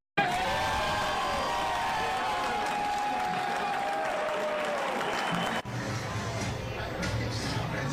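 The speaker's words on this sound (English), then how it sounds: "Caleb Williams, our new QB, the crowd here at the Stadium Club at the Max in McCook couldn't be happier" A crowd at the Stadium Club in McCook cheers and applauds a team's number one draft pick, a new quarterback. The noise is steady and fairly distant, with a sustained tone over it, and it shifts abruptly near the end.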